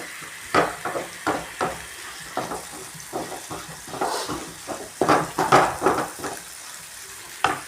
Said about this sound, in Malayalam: ഇതിൽ പച്ച മണം മാറുന്നത് വരെ ഒന്ന് ഇളക്കി കൊടുക്കും.